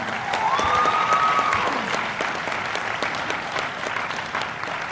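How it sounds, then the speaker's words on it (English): A company team seated at the back of a prospectus launch event applauds themselves, a sustained, loud round of clapping from a crowd with a brief whistle-like tone rising early on. "So our team at the back, please give yourself a big round of applause."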